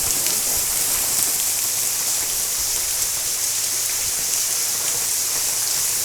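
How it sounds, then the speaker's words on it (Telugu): Heavy monsoon rain pours steadily and loudly, a dense unbroken hiss of drops drumming on surfaces with no pauses, close and alone without any voices. "ఇక్కడ చూడొచ్చు మీరు ఎంత హెవీ రెయిన్ పడుతుంది."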